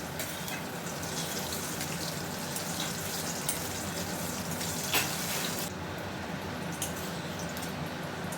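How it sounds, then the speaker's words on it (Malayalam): Vada pav ingredients fry in a pan with a dense, steady hiss and sizzle that runs unbroken for several seconds, with a brief brighter crackle midway and no voices. "ഇനി നമുക്ക് ഇത് ആദ്യം ഫ്രൈ ചെയ്തെടുക്കാം"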